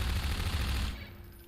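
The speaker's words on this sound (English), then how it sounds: "Here's some turrets up ahead." Turret gunfire in Half-Life 2, a dense, rattling burst of rapid automatic shots that holds loudly for about a second, then cuts off abruptly into a faint tail.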